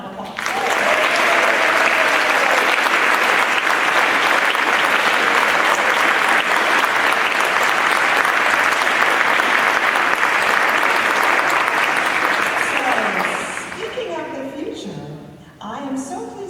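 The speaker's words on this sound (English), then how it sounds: "Let's give them a round of applause." Sustained, loud applause from a large audience at the International Women's Brass Conference, a thick even roar of clapping that holds for about thirteen seconds before thinning out as someone begins speaking.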